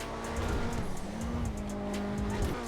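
An Invetero Coquette D5, a rear-wheel-drive car in GTA Online, revs and accelerates hard, its engine note rising and dropping through gear shifts with bursts of tire squeal, loud and close.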